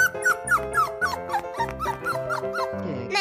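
Cartoon dog voice from a 3D animal slide video game, a run of short, high squeaky yips and whimpers repeating over bright game music, fairly loud and close.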